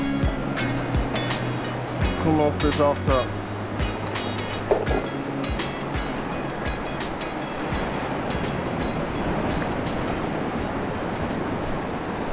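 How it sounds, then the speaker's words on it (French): Sea waves break and wash steadily along the shore during lure fishing, with a continuous surf roar, some clattering near the start and a brief voice. "il y a des vagues"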